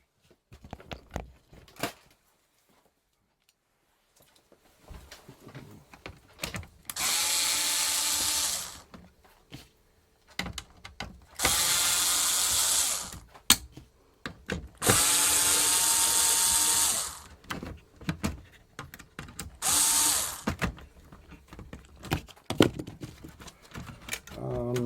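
An electric screwdriver whirs in several bursts of a second or two each, taking screws out of the circuit board of a Stylophone 350S synthesiser, with clicks and handling noise between bursts and a voice talking at times.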